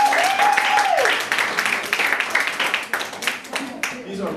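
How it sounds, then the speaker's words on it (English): Applause from an audience at a startup food-tasting event, a brief sustained clatter of clapping that tails off while a voice talks over it. "can you give a nice applause for"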